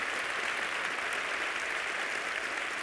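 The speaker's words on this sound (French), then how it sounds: "Donc, on l'applaudit." Audience applause at the international final of a French-language dictation contest, a steady dense wash of clapping from a large crowd, sustained and even throughout with no speech.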